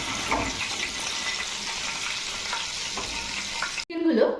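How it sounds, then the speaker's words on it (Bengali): Chicken pieces fry in a pan over low heat, giving a continuous close sizzle with faint stirring scrapes. The sound cuts off abruptly near the end and is followed by a short burst of a different, water-like sound. "এগুলো যখন ফ্রাই করতে হবে চিকেনগুলো, তখন কিন্তু মাথায় রাখতে হবে লো স্টিমে কিন্তু এগুলো ফ্রাই করে নেব।"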